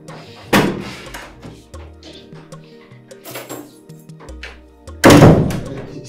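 A door thuds shut twice inside a room during a drama scene, once early and once loudly near the end, with quiet background sounds between.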